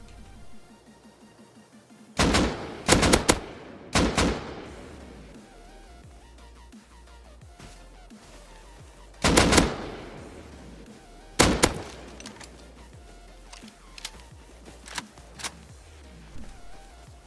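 Gunfire in the survival video game Rust: a few sharp, loud shots in scattered bursts, some closely spaced, separated by quieter stretches of game ambience and faint clicks.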